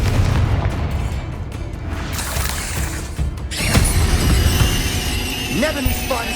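In the video game Hogwarts Legacy, a Confringo spell explodes with booming, crashing blasts and bursts amid battle noise. A voice speaks over the effects.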